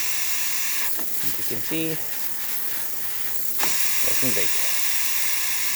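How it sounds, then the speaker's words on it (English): The steam wand on a freshly serviced Breville Oracle espresso machine hisses loudly and continuously, a strong close airy rush that carries on beneath a brief stretch of talking. "There's really good steam pressure coming out of this steamer one."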